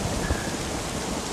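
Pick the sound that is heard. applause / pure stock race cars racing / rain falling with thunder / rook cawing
rain falling with thunder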